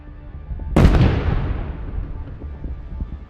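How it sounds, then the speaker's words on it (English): A tank sets off a mine in a chain explosion on a battlefield: one sharp, heavy blast bursts out, then a long rumbling roar slowly dies away with scattered crackles. "a nearby tank continued forward and triggered another mine, causing a chain explosion"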